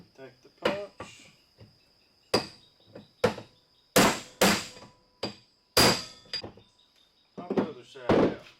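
Hammer strikes on a punch knocking a wheel bearing out of a Yamaha Rhino rear hub held in a vise: a dozen or so sharp, loud metallic blows in irregular bursts, close up, with faint scraping between hits.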